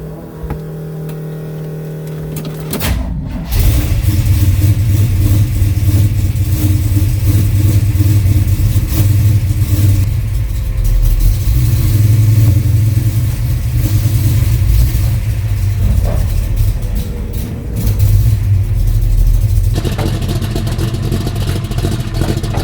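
A 1969 Pontiac GTO with a rebuilt motor drives down a back street, its engine rumbling loud and steady as it pulls through the gears, with wind noise and clatter over a continuous low drone.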